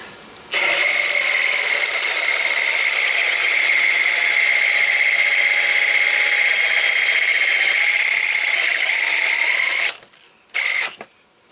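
A hole saw cuts a notch in steel tubing with a loud, steady metallic grinding whine that runs for about nine seconds, stops, then bursts on again briefly.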